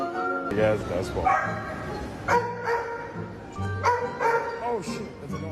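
A dog barks and yips repeatedly in short loud bursts, some whimpering in between, close by with people talking excitedly over it.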